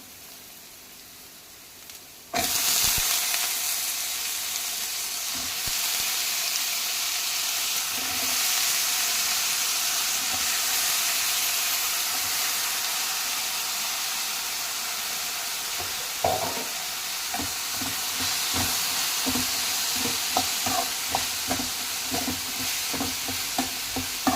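Chopped raw banana and onion hit a hot pan with a sudden loud sizzle after a quiet start, followed by continuous frying hiss and the scrape and clatter of stirring throughout.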